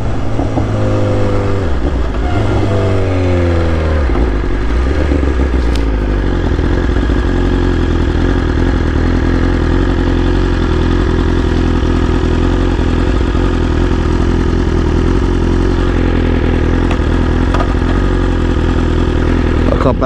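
A very fast motorcycle, outrunning a Hayabusa, roars loud and close, revving through several rising gear pulls before settling into a sustained heavy engine drone on a road through farmland.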